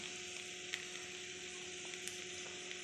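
Spices frying in hot oil in a pan while cooking a papaya and potato curry with chana dal, a faint, steady sizzle with a few soft clicks of stirring.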